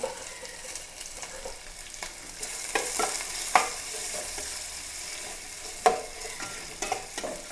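Sliced onions fry in a pan with marinated meat, a soft, continuous sizzle broken by sharp scraping and clacking as a spoon stirs them, the strokes irregular and close.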